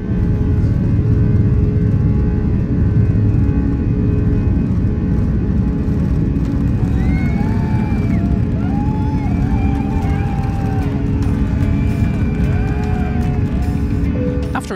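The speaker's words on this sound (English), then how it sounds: "Takeoff run that felt like we'd started in Amsterdam and lifted off somewhere in Belgium, we were finally airborne" Surinam Airways airliner on its takeoff run, a loud steady roar of engines and rumbling cabin noise that holds throughout, with faint tonal whines and a few voices murmuring underneath.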